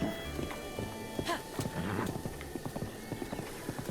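Horse hooves clip-clop in a video game, a rapid run of crisp knocking steps at close range, with a short whinny mixed in near the start.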